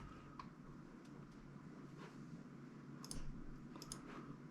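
A computer mouse clicks a handful of times, each a crisp faint tick, spaced irregularly over a quiet background hum with no talking.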